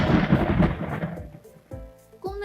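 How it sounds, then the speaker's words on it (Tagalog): Thunder from a storm rolls in a loud, broad rumble that fades over about a second and a half, followed by a couple of softer knocks. "At ito ang ating naririnig bilang kulog."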